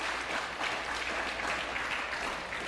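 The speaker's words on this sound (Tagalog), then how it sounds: "Tuloy natin yung palakpak sa Panginoon." A congregation at a church service claps for the Lord, steady, moderately distant applause filling the room without a break.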